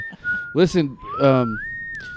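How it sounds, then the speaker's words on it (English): A person whistles a clear, wavering tune, with a sustained note gliding up and down, close and fairly loud, interrupted by brief bursts of talking in between. "I'm a good whistler"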